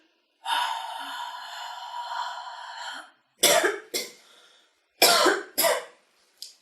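A person sits and clears secretions with a long drawn breath followed by several sharp, forceful coughs in two pairs, close and loud, during a breathing exercise in a nursing-assistant class.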